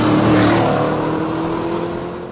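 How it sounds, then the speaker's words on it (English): Billy Boat performance exhaust on a sports car, a loud, steady, rich engine drone with a strong low tone that fades slightly over a couple of seconds, heard alone. "For those who want a rich, aggressive exhaust note with a touch of refinement"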